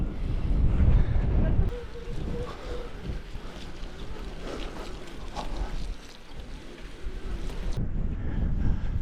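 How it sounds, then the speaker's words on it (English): Strong wind buffeting the microphone on an exposed hilltop during an electric mountain bike ride, a continuous rumbling roar that surges and eases. "the wind is really strong across here and there's showers"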